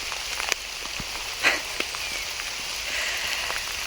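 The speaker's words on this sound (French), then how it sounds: "Plus ça va, plus il pleut." Heavy rain falls outdoors as a dense, steady hiss of drops with scattered sharper patters and taps nearby, continuous and fairly loud, no one talking.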